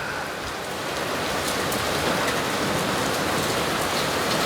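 Hail and heavy rain pour down during a daily storm, a dense, continuous close hiss and patter of drops striking surfaces, steady and loud throughout with no voices.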